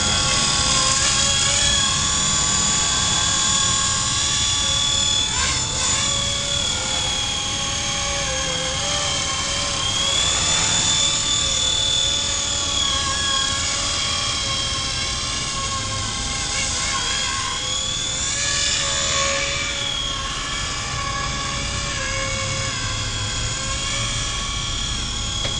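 A Blade 120SR radio-controlled helicopter flies while carrying a test payload, giving off a steady, loud, high-pitched rotor and motor whine with slight pitch wavers throughout.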